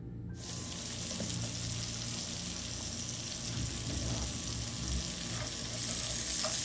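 Kuzhambu curry bubbles and sizzles softly on a low flame in a home kitchen, a continuous faint hiss that holds steady throughout with no voices.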